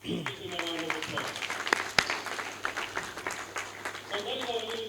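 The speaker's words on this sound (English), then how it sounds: "Please give him a round of applause." Applause for a performer at a taxpayers awards ceremony in The Gambia, scattered clapping mixed with crowd noise, a few sharp louder claps and voices talking over it.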